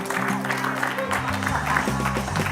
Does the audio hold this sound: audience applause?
yes